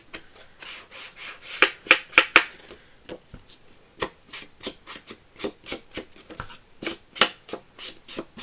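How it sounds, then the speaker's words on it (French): Paper being rubbed to age it for a handmade Christmas easel card, heard as a close run of quick dry scraping strokes, a fast cluster early on and then steady repeated rubs with short pauses, with no talking. "On va aussi vieillir, hop, un peu le papier."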